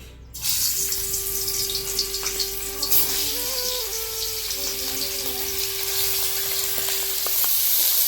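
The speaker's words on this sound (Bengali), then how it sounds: "তেলটা গরম হয়ে গেছে, এখন মাছটা দিয়ে দিব।" Pangas fish slides into hot mustard oil and sizzles loudly and steadily up close, with a faint tonal hum running underneath.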